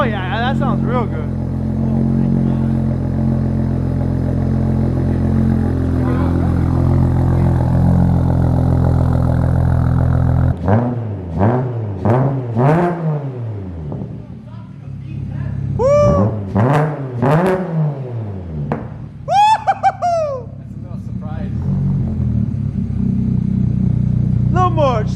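BMW N54 engine breathing through a custom 4-inch Vibrant muffler exhaust, idling with a deep drone before a series of sharp, loud revs rising and falling in quick bursts, close up.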